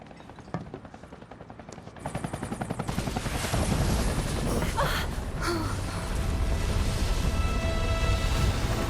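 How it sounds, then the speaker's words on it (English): A helicopter in Final Fantasy VII Remake roars loud and steady, its dense rotor noise building over the first seconds and then holding, mixed with rapid gunfire-like bursts. "Helicopters always crash in video games."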